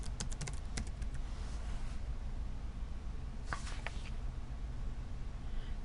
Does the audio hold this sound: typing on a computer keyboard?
yes